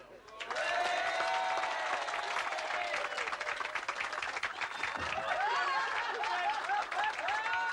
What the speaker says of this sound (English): A round of applause for the gentleman for his help.